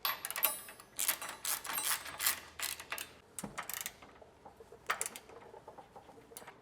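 A ratcheting wrench clicks in quick bursts while tightening tow hook bolts on a Toyota 4Runner, close and fairly faint, with short pauses between runs of clicks.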